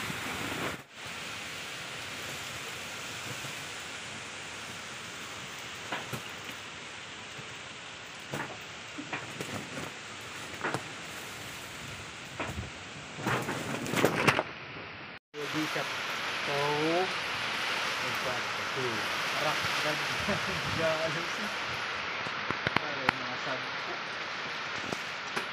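Strong typhoon wind and heavy rain during Typhoon Odette, a steady broadband roar with sudden louder gusts and a brief dropout midway, while people talk intermittently over it.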